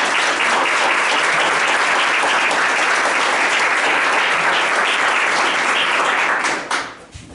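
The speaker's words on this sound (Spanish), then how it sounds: "nos merecemos un gran aplauso" A crowd at a hospital signing ceremony in Zapala breaks into loud, sustained applause that holds steady for several seconds before tapering off abruptly at the end.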